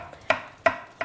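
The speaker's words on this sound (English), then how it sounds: "however you cut it, as long as you cut them like this shape" Three sharp knife chops on a cutting board while preparing vegetables for tabbouleh, close and distinct, evenly spaced about a third of a second apart, with no talking.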